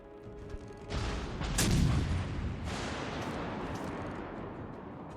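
A torpedo strikes a battleship in a naval video game, a heavy rumbling blast that swells and then trails off into a long, roaring wash of noise.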